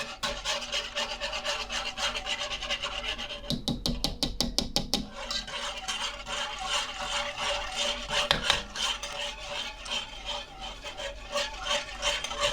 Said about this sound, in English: You want to grab your stir, whisk.